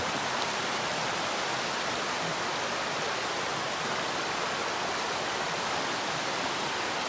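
Rain-swollen streams along the Ouachita Trail make a steady, dense rushing roar, broad and constant throughout with no voices.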